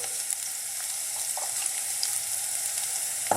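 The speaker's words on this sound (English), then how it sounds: "on a very vibrant to high heat, Let's just toss that around and infuse that oil" Ginger tossed in hot oil over high heat in a wok, giving a steady bright sizzle throughout with a few soft stirring clinks and scrapes, close and moderately loud with no talking.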